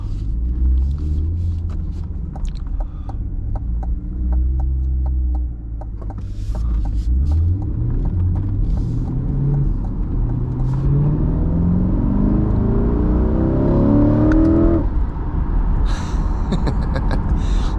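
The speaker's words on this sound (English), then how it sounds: "Nothing like a good V8 roar in the morning." The V8 engine of a 2026 Corvette E-Ray roars and revs up repeatedly, pitch climbing through the gears, loud and close, then backs off.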